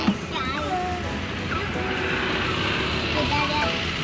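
Waves wash steadily onto a beach at Anyer, making an even, moderately loud surf hiss, with faint voices and chirps scattered through it.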